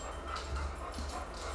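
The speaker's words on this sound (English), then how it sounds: "What are you barking about, bro?" A dog gives faint, muffled whimpers and a soft bark or two, distant and low in level under steady background noise.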